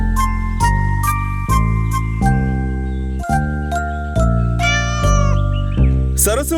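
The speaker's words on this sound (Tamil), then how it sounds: "அதுக்கப்புறம் அவரு ஒரு பூனையை கொண்டு வந்தாரு." A cartoon cat meows repeatedly in clear, close calls, mixed with bright jingling chime tones and musical notes, with no talking.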